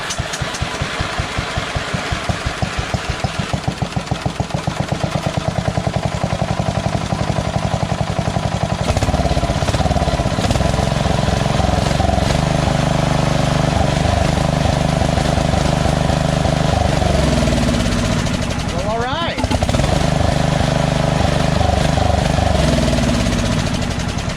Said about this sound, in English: So we know that we can start the engine with this kill switch when the ignition is on, and then when the engine's running